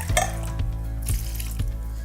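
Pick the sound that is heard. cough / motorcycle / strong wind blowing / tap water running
tap water running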